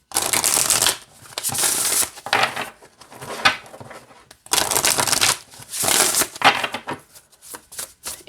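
Mary Magdalene Oracle card deck shuffled by hand, a run of crisp riffling bursts separated by short pauses and softer handling, close and fairly loud with no talking.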